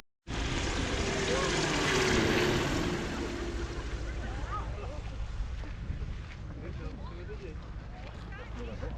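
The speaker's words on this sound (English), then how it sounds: "the microlight's coming in fast" Microlight aircraft coming in fast to land low overhead at the Montrose Air Show in Scotland: a loud engine roar with wind buffeting that swells and then fades, with people talking nearby.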